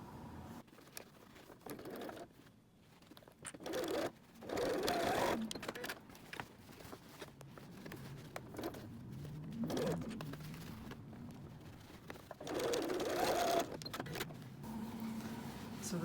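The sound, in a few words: sewing machine sewing across bag strap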